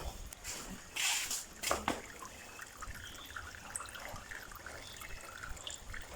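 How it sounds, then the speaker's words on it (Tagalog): A thin stream of water trickles from an outdoor tap, a faint steady dribble with a couple of brief louder splashes early on, set against outdoor background noise. "silipin natin yung mas malakas pang ihi na tulo."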